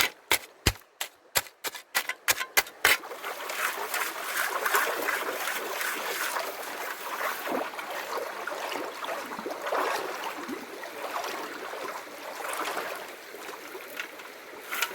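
A gold pan is worked in a stream of a Canadian gully, starting with a quick run of sharp knocks and scrapes, then giving way to steady sloshing and swirling of water through gravel.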